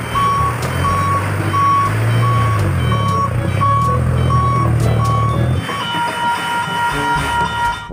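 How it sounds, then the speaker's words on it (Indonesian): A toy sand truck sounds loud, evenly spaced reversing beeps over a steady motor-like drone. The tone shifts near the end as the beeping continues. "Ini ada mobil truk pasir."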